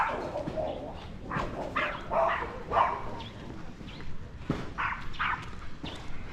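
A small dog gives several short, high-pitched yaps at moderate distance, spaced irregularly, with some background noise between barks.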